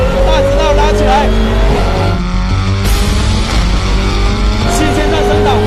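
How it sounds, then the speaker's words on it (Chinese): A Chinese-brand front-wheel-drive performance race car accelerates flat out down a track straight, its loud engine note climbing in pitch and dropping at quick upshifts, heard close and continuous throughout. "来，全力跑一圈，大直道拉起来"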